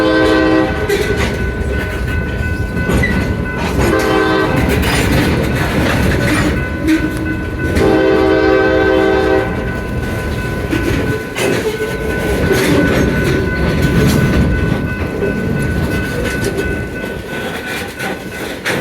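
A Conrail freight train, WPPA-10, rolls steadily past close by in Paulsboro, New Jersey, with a continuous loud rumble of wheels and cars and repeated horn blasts over it.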